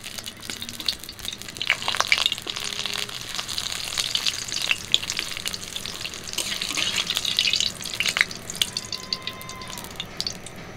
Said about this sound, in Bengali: তেল গরম হয়ে গেছে, পাঁপড় ভেজে নেব